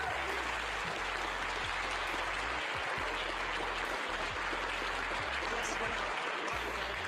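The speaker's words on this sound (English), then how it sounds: "The James Webb Space Telescope, amidst applause here in the Mission Control Center" Steady, dense applause fills a mission control room as a space telescope separates from its launch vehicle, continuous and fairly distant, with faint voices mixed in.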